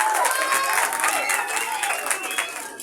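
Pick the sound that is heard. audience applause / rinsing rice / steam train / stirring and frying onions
audience applause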